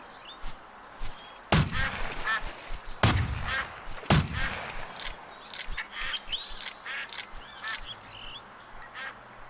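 Ducks quack and honk in the Duck Dynasty PC game, a flock calling repeatedly over a steady outdoor ambience, with three loud sharp bursts near the start.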